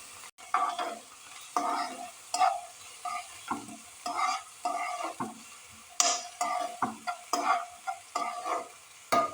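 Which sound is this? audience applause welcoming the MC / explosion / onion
onion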